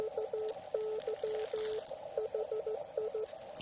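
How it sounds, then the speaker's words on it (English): Morse code received on a small battery-powered QRP amateur radio on the 20 meter band while camping in Florida, a faint steady tone keyed in quick dots and dashes with irregular gaps. "receiving some Morse code right now."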